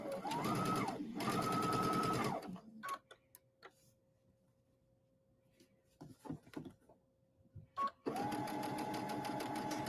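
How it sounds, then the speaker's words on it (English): Sewing machine running steadily while stitching a fabric liner along a 1/4 inch seam allowance, two loud sustained bursts at the start, quiet handling clicks in between, then the motor starts up again near the end. "start by beginning our sewing at the edge of the liner"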